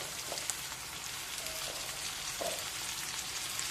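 Mettalu fry in hot oil for a gongura curry, a steady close hiss and crackle of sizzling that carries on without pause, with a couple of faint clinks and no talking.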